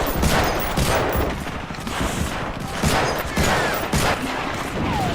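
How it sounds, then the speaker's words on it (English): Sustained gunfire from Medal of Honor: Frontline, overlapping rifle and machine gun bursts with periodic louder shots in a busy battle mix. "I'm shooting."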